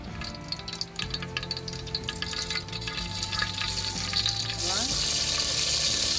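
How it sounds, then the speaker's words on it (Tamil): Mustard seeds drop into hot oil for a Tamil kuzhambu, and a soft frying hiss suddenly swells into a loud, steady crackling sizzle. "நல்லா ஆயில் வந்து சூடு வந்ததும் கடுகு போட்டுடலாம்."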